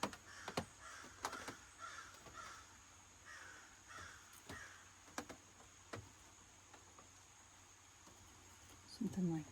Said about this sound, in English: Crows are busy today.